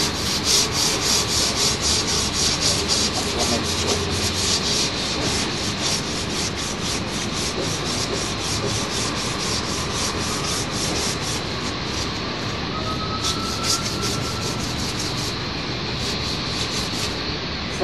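Sandpaper of 150 grit rubbing steadily back and forth over a surface, a continuous close scratchy hiss with even rhythm throughout, no talking.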